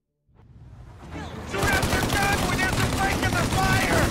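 Hip-fired gunfire in Mafia: Definitive Edition, rising from quiet into a dense, continuous barrage of rapid shots and impacts that carries on loudly to the end.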